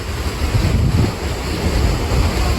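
Powerful water pouring over a large dam roars from a distance, a broad steady rush mixed with wind buffeting the microphone, no talking.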